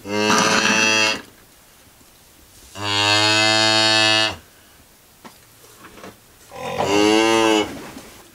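An endangered Lynch Lineback cow in labour gives three long, loud, close moos, each lasting over a second, separated by quieter pauses.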